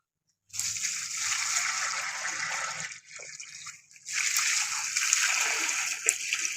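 Water thrown from a glass onto mud walls splashes and patters in a near, steady wet hiss. It drops briefly around the middle, then resumes with scattered drips and splatters.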